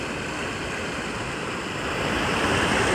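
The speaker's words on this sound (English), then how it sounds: "So I've got the sounds of water" A creek flows beside a campsite used for stealth hammock camping, giving a steady, close rushing wash of water that swells slightly louder toward the end, with no voices.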